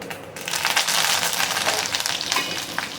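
Mustard seeds and black gram crackle and pop in hot tempering oil, a busy close-up sizzle with rapid irregular spatters and no talking.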